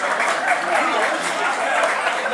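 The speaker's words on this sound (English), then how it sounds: "give yourselves a big round of applause for being here and showing your support" Crowd at an old-fashioned outdoor cookout in a park giving a round of applause, steady clapping with voices and cheering mixed in under it.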